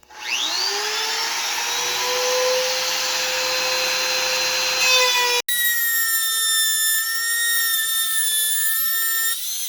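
A router with a template bit cuts wood along a template, a loud steady high-pitched whine with a brief break midway, then resuming at a different pitch, close by with no talk.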